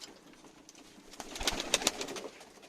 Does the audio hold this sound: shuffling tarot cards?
no